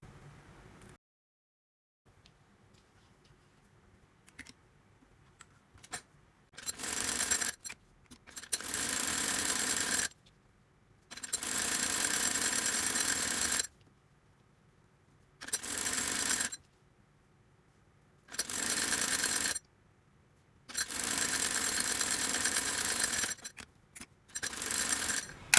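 A sewing machine stitching the two legs of a child's salwar together, running in several bursts of rapid whirring stitches, each a few seconds long, separated by quiet pauses, close and clear.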